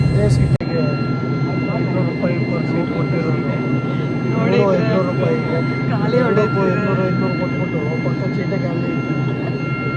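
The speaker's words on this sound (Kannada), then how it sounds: "ನಮ್ಮದು ಒಂದು ಪುಟ್ಟ ಫ್ಲೈಟ್ ಇದೆ ಇವತ್ತು" Engine drone of a small passenger airplane heading to Agatti in Lakshadweep, a steady loud roar with tonal hum filling the cabin while people talk over it.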